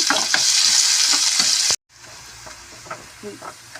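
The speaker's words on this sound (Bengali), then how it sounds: "পেঁয়াজটা আমি এবার ভালো করে একটু লাল করে নেব" Chopped onions fry in mustard oil, a loud, bright sizzle with stirring that cuts off abruptly, then a much quieter crackle continues with light clinks.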